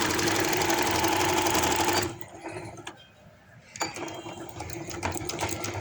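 A sewing machine stitches lace onto fabric, running fast with a loud, even mechanical whir for two seconds, then slowing and stopping briefly before starting up again in quicker, ticking bursts.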